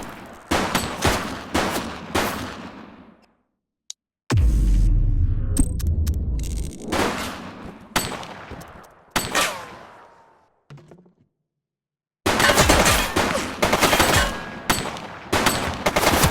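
Gunfire in the video game The Precinct, loud bursts of rapid automatic shots that come in separate volleys, broken by a heavy thump and near-silent gaps before a long final burst.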